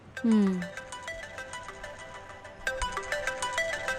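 A melodic phone ringtone plays in repeating electronic notes, starting with a sliding tone and continuing in a steady looping tune.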